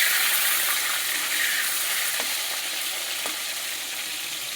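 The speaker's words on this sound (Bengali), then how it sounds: "দেখুন মাছটা এরকমই ভাজা হবে" Rohu fish sizzles steadily in hot oil in a pan, a continuous close hiss with a couple of faint clicks and no voices.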